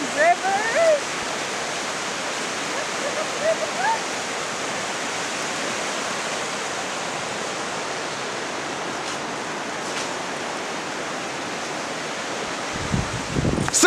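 A salmon stream rushes steadily, a broad, loud, continuous wash of water with a few faint sounds over it.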